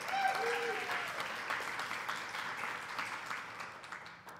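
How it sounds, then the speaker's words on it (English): Inside a church, the congregation gives a round of applause, a soft, somewhat distant patter of many hands clapping that slowly fades, with a faint voice at the start. "Everybody can give them a round of applause."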